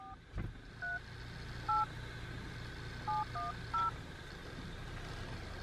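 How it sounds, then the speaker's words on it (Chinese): A mobile phone dials out, producing a series of short, distinct keypad tones with uneven pauses between them, fairly faint over a quiet background, inside a car on a remote road. "我打电话"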